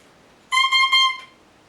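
A bare double reed blown on its own makes three short, bright, buzzy squawks in quick succession, thin and nasal, then stops.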